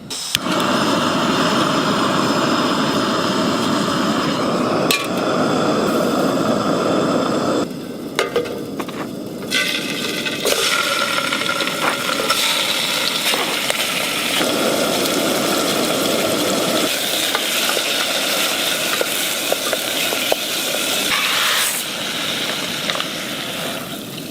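Small camping stove burner roaring on high under a pot, a steady close hiss that shifts and softens partway, joined by light clinks and stirring, with no talking.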